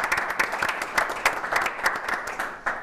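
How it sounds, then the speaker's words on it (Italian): A television studio audience claps warmly in a cycling show, a dense, even patter of many hands that carries on steadily throughout. "Noi lo salutiamo con un applauso."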